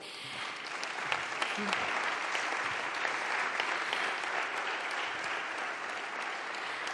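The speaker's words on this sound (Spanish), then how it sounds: "a la presidenta, a Francina Armengol, a la que voy a pedir un aplauso" Sustained applause from a crowd, dense and even clapping throughout with a voice briefly audible beneath it.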